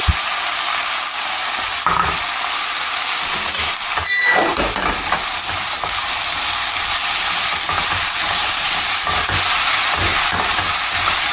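Vegetables for a pumpkin gazpacho sauté in a pan without browning, a loud continuous sizzle with a stirring scrape near the middle, steady and close with no talking.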